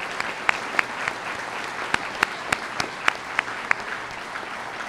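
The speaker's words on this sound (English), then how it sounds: "Would you join me in a round of applause for the Sahl family?" Applause from an audience at a Nashville District change of command ceremony, sounding sparse and moderate with distinct individual claps popping out over a steady wash of hands.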